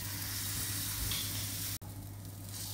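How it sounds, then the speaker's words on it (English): Marinated tuna loin sears in a pan, giving a steady, close, moderate hiss and sizzle with a brief dropout partway through, with no talking. "I'm currently searing the marinade de tuna loin."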